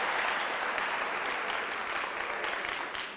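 Audience applause at a college inauguration panel discussion, a dense steady wash of many hands clapping at once, loud and continuous, tapering slightly toward the end with no voices on top.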